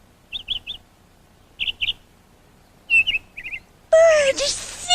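A bird gives short clusters of high chirps and tweets with pauses between them, then a louder burst of whistling song rises at the end, in a quiet children's cartoon setting.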